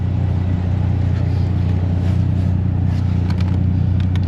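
Grumbling blower motor in a BMW 528i, a steady low droning hum that runs continuously at close range, with faint clicks near the end.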